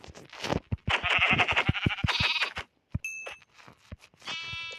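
Several quick bleats from sheep in Minecraft, interspersed with short thumping hits as the sheep are killed, then a pause and a few bright chiming tones.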